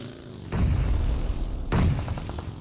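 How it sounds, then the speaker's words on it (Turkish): Grenade explosions in the PUBG Mobile video game: two heavy, booming blasts about a second apart, each with a deep rumbling tail, the second followed by faint rapid clicks. "Ben son bombamı da attım abi valla."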